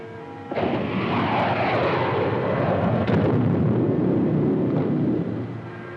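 Weapon fire and explosions in an audio drama battle: a loud, sustained heavy roar with a sharp blast midway, then a fade near the end. No voices are heard.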